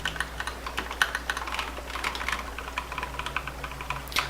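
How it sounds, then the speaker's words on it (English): Close, steady typing on a computer keyboard, fast irregular key clicks running throughout over a faint low hum, with no talk. "I don't know why I'm typing full English sentences here."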